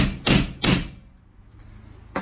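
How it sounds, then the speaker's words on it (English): A hammer strikes a center punch held against a wall while a metal storage shelf unit is mounted. Three sharp, close knocks are heard: two in quick succession, then a third after a short pause. "So I've got my center punch, got my hammer."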